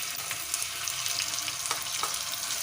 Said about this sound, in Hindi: हल्का से इसे भून लेंगे